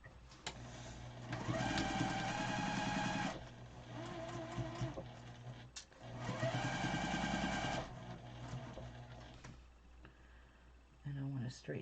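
A sewing machine stitches quilt pieces for a Farmers Wife quilt in two runs of fast, steady mechanical whirring, each lasting a few seconds, with a short pause between and quiet handling noises after.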